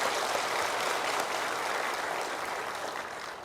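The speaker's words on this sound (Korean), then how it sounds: "격려의 박수 한번 해주시기 바랍니다." Church congregation gives a round of encouraging applause during a sermon, a broad wash of many hands clapping in a large room, steady and then slowly fading over a few seconds.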